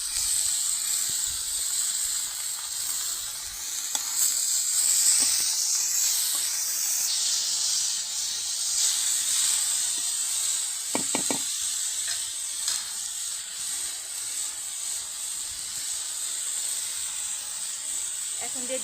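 Chopped potatoes sizzling in hot oil in a wok, a steady high hiss with faint knocks and occasional stirring scrapes, moderately loud and continuous.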